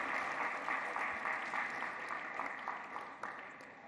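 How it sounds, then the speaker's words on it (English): Steady applause from an audience at an official launch event, sustained clapping throughout at moderate loudness, tapering slightly at the end. "Please round of applause for Dr. Metono."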